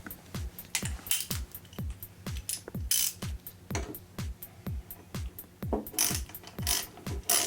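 A ratchet tightening bolts on a Mazda RX7 makes a fast, steady run of close, loud clicks with brief pauses between strokes.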